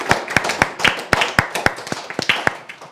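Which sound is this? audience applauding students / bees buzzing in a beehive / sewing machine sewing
audience applauding students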